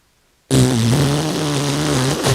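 A storyteller's voice imitates a fart with one long, loud, buzzing raspberry that bursts in abruptly after silence and holds for nearly two seconds.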